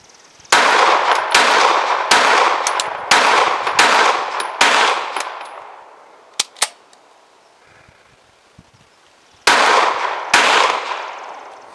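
An FN 509 CC Edge pistol fires a magazine at a steady pace, loud sharp reports with a few cracks after a pause and a final pair of shots, outdoors at a range.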